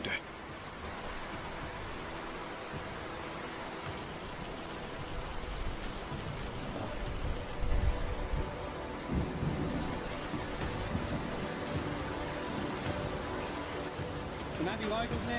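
Steady heavy rain pours down on land that had been burning, with rolling thunder swelling around the middle of the storm; the downpour is continuous and fairly loud.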